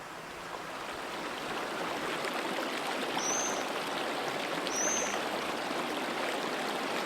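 Water running while dishes are washed up with a sponge, a steady close hiss of flowing water with no pauses and a couple of faint high squeaks.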